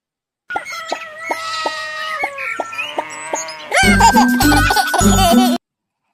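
A hen clucks in short, clipped calls, followed by a louder burst of rhythmic, layered clucking close to the listener.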